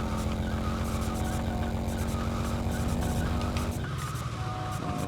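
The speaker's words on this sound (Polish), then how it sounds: "wybaczcie za to piszczenie takie, ale to jest spowodowane tym, że mamy tą oponę przebitą" A car with a punctured tyre squeals and skids in GTA Vice City Stories. The tyre squeal and engine noise are loud and continuous, then drop off sharply near the end.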